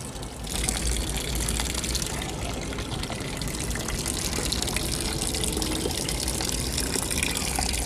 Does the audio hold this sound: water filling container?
yes